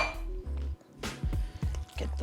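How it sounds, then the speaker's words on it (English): Ingredients for a kugel are poured into a bowl and mixed together, with clinks, scrapes and wet stirring sounds in short bursts separated by brief pauses. "I'm going to pour those in together all across, and we're going to mix that all up"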